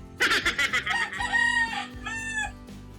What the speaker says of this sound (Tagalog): Sunod-sunod na naman ang tulaok.